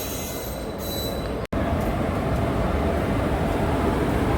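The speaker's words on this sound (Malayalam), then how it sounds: "ബാംഗ്ലൂർ വരെ പോകുന്ന ഏറനാട് എക്സ്പ്രസ് ആണ്." The Eranad Express bound for Bangalore pulls into a station with loud, sustained wheel squeal and rumbling rail noise, continuous and close, with a brief dropout partway through.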